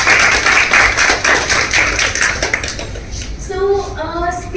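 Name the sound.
audience applause at a youth poetry workshop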